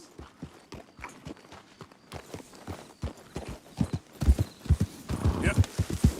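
Horse hooves clip-clopping at a steady walking rhythm with an occasional whinny in Red Dead Redemption 2, close and fairly loud, with game character voices talking over them.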